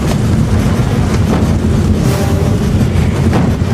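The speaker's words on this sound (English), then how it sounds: "make the train go faster" A steam locomotive runs fast in Back to the Future Part III, the boiler pushed hard, giving a loud, continuous, rushing chuff and rumble with wind-like roar and no talk.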